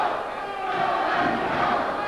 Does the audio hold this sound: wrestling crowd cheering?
yes